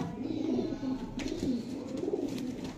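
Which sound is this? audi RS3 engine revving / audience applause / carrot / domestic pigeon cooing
domestic pigeon cooing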